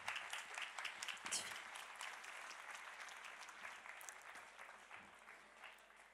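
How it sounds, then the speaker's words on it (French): Townspeople at the Calais mayor's New Year wishes ceremony clap for a young ambassador named Eva, a soft, scattered round of applause that swells briefly and then tapers off. "Alors Eva, vous pouvez l'applaudir."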